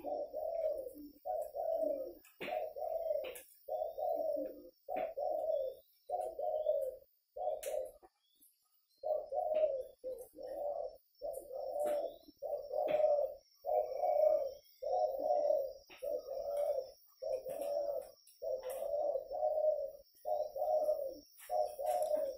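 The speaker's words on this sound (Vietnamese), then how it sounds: "Thế là nếu như các bạn lên nhà thì lúc nào cũng có tiếng chim gáy." Spotted doves cooing in a steady, rhythmic series of soft, mid-pitched coos at an aviary where the birds are bred, repeating about twice a second with one short pause, fairly close and alone without talk.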